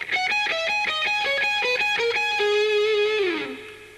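Electric guitar plays a pedal tone lick, a fast run of distinct notes alternating against a repeated low note, then a final held note that bends down and fades; loud, close, with no talking.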